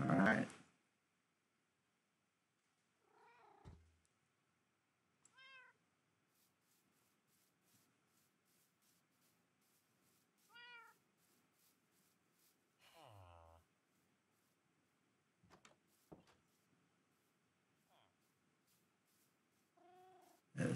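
A cat in the video game Minecraft meows several times in short, separate mews spread across a quiet stretch. Soft background game sounds fill the gaps, with a few brief louder bursts.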